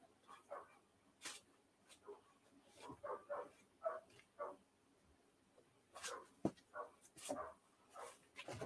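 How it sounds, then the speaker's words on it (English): A dog barks repeatedly in the background of a live comic book sales stream, with sharp, irregular barks scattered across the clip at moderate distance, some louder than others, amid faint room noise. "And the dog's barking."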